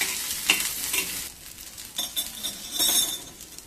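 Sliced onion sautés in oil for an elephant foot yam and onion dish, with a gentle ongoing sizzle and repeated clinks and scrapes as a spoon stirs against the pan.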